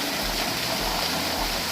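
Waterfall stream at the Punyagiri Shiva temple, a steady, dense rush of falling water that stays even and close throughout, with no voices over it.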